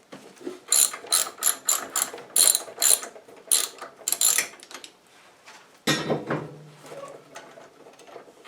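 A ratchet clicks in quick bursts while a spark plug is loosened from a snow blower engine, close and crisp, with pauses between strokes; a heavier scrape and low hum follow near the end.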